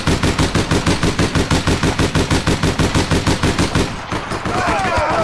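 Rapid automatic gunfire in the video game APB Reloaded rattles out in a loud, steady burst of evenly spaced shots, then cuts off into a rushing, scraping game noise at the end.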